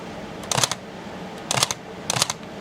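Three crisp mechanical shutter releases from a Minolta Alpha 9 film camera set to a wide f/1.4 aperture, each a short, close clatter of clicks spaced about a second apart, with no talk.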